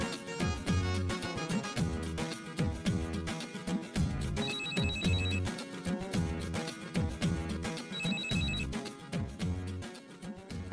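Phone ringing on an outgoing call, a repeated melodic ringtone pattern cycling in regular bursts at moderate volume, alone with no talking.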